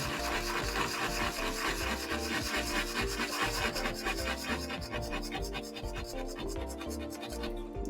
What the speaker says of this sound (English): Here I'm going to use a little of the Conte crayon.